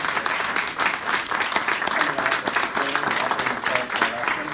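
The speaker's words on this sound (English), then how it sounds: "Let's have a round of applause for the panel." A forum audience applauds the school board candidate panel, dense sustained clapping filling the room at full volume for several seconds.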